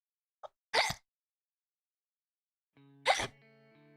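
Two sharp, abrupt sneezes burst out close by, the first preceded by a short intake of breath and the second followed by a faint electronic tone, with silence between them.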